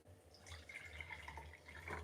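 Raw homemade juice pours steadily into a glass, a continuous close liquid trickle and splash running throughout without pause.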